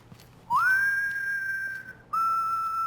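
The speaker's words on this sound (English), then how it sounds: "The whistling's a good sign." A guard in the video game Dishonored 2 whistles two sustained, clear tones, one rising into a long held note and then a second steady note after a short break, heard alone over quiet ambience.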